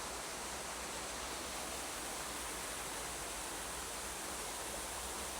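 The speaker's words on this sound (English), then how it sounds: "No, I think this is a leaking pipe." Water gushes from a leaking pipe as a dense, unbroken hiss-like rush, steady and loud for over five seconds with no voices.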